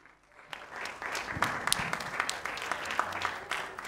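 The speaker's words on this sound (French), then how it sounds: "Applaudissez pour lui." Applause from an audience at a film club screening in a hall, a dense crowd of clapping rising quickly and continuing steadily at moderate volume throughout, with no speech over it.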